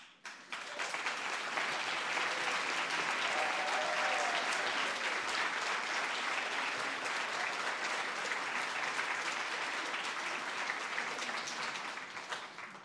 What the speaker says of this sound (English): please stand and let's give them a nice round of applause